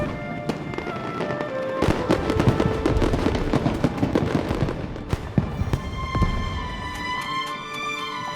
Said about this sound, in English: A fireworks show?